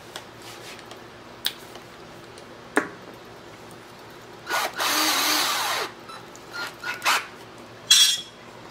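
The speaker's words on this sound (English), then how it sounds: "Get my drill out." A power drill turns a reamer through a part for a small steam engine. Quiet handling clicks and taps come first, then a sustained whir of about a second and a few shorter bursts, close and moderately loud. No one speaks.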